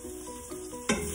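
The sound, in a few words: stirring sizzling fat in a quick cooker pot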